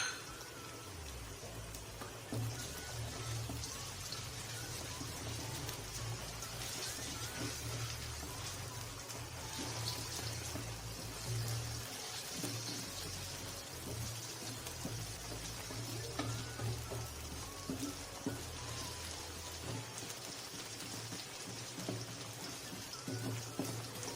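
Chopped green chillies sizzle in hot oil in a pan while cooking daal mash, a steady crackling hiss running throughout with no talk.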